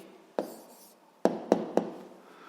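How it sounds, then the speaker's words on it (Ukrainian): Pen strokes writing down an answer on paper: a short scratch followed by three quick taps and scribbles, close and quiet, with no talking. "Записуємо відповідь, пишемо відповідь."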